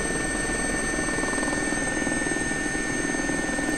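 Simulated helicopter in X-Plane 11, an air ambulance coming in fast toward a helipad, gives a steady loud rotor and turbine drone with a high whine, unchanging throughout.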